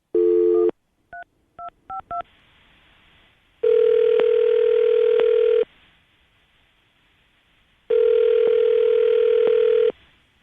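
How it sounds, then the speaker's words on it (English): A landline telephone places a call: a steady tone, a quick run of dialing beeps, then two long ringback tones separated by silence, clean and close. "we'll call him, see if we can get him on the phone."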